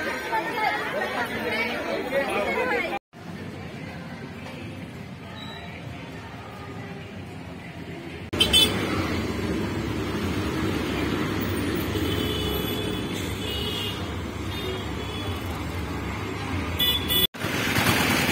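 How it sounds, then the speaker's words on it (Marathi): A busy bus stand in Shegaon, near the Gajanan Maharaj temple, with a steady wash of crowd chatter, idling and passing vehicles and occasional car horn toots throughout. "शेगावचं बस स्टँड या ठिकाणी आहे"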